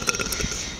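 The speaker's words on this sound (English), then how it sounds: "When you can't help burping, you gotta stop yourself." A short, deep burp during a belching competition, a single throaty belch lasting under a second, close and fairly loud.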